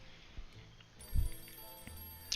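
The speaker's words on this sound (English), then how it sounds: "Oh, why do I hear a phone ring?" Telephone bell ringing inside the video game 60 Seconds! Reatomized, a faint tinny ringing with clock-like ticking over quiet in-game ambience, with a dull thump midway.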